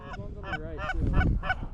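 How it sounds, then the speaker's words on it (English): A flock of geese honks repeatedly overhead during an early-season goose hunt in North Dakota, the calls coming in rapid overlapping bursts of varying loudness, moderately close, without talk. "Bro, all these fucking geese are moving."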